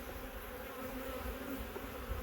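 Honey bees from a package colony drawing out new comb hum around an open hive, a steady dense buzz held close and even throughout with no voices.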